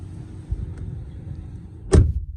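A 2019 VW Jetta's door shuts with a single solid, close thud near the end, preceded by faint rustling and handling noises and no talk.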